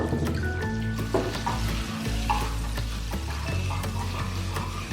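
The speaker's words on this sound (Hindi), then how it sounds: "इसके अंदर हमने 2 टेबलस्पून जो है बटर को ऐड किया है और इसके अंदर हम 2 ही टेबलस्पून जो है ब्राउन शुगर यानी शक्कर डालेंगे।" Butter and brown sugar cooking together in a pan for an upside-down pear cake, giving a continuous close bubbling sizzle with occasional soft stirring scrapes and a steady low hum beneath, no voices present.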